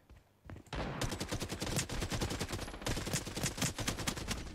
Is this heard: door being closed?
no